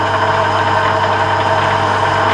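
An Emco lathe takes a scratch thread cut on plastic. Its loud, steady motor hum and whine drone on without a break, close up, and nobody speaks.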